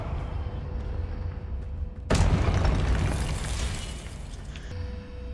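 A Confringo fire spell in Hogwarts Legacy bursts with a sudden loud boom, followed by a crackling, rumbling decay over a few seconds beneath steady background game ambience.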